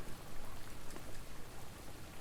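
Cold, heavy rain pouring down as a steady, dense hiss, close and continuous without a break.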